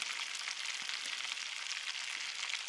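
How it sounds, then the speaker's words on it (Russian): Freshly caught fish, crucian carp and roach among them, sizzling in a pan at a hunting camp in Yakutia, a steady dense frying hiss that runs without pause throughout. "на таборе вот ребята жарят рыбу"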